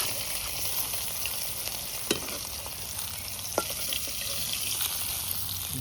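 Fresh Ganges hilsa fish fries crisp in oil over a village clay stove, giving a steady close sizzle broken by a few sharp clicks of a utensil.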